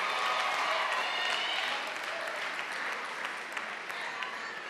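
Senior students at a summit give themselves a round of applause, a broad, even wash of many hands clapping at a moderate distance, tapering slightly toward the end.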